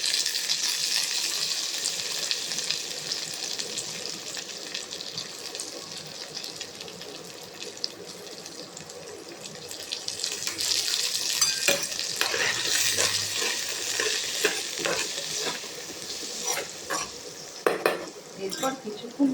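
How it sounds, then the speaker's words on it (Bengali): Hog plums fried in hot oil with tempering spices for a chutney, sizzling steadily while a spatula stirs and scrapes the pan in irregular bursts, close and clear, busier in the second half. "ফোড়নের সাথে আমড়াগুলোকে বেশ একটু লাল লাল করে ভেজে নেব।"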